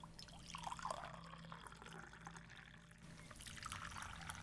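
Tea poured into china cups, a soft, continuous liquid trickle with faint splashes and drips, quiet and slightly distant under a low background hum, without talk.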